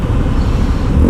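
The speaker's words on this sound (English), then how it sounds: "Oh, nice exhaust." A car's exhaust rumbles on a Bangalore street, a steady, fairly loud low drone with road noise around it and no talk.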